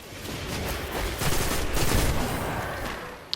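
Gunfire from the video game Destiny: a dense, overlapping burst of shots over about three seconds, loud and close, with a sharp final crack at the end.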